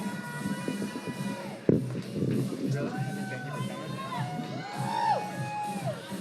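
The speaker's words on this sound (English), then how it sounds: "big round of applause for our winners, guys" An indoor crowd at the Portland Boulder Rally 2019 bouldering finals cheers the winners with whoops, shouts and yells rising over a lively murmur, voices talking throughout.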